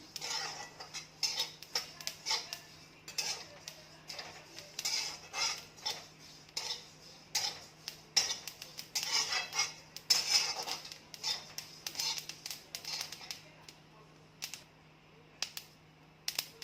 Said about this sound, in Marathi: तीळ भाजून घेत आहे ती आता भाजायला लागलेली आहे